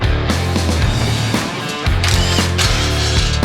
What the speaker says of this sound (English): undo the bolts and slide the bull bar off of the vehicle